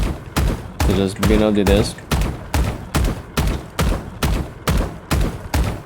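Gunshots ring out in the video game Valorant, a rapid, evenly spaced series of about a dozen loud cracks, with someone speaking over the first few.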